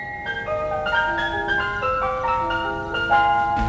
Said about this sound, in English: This is an ice cream van.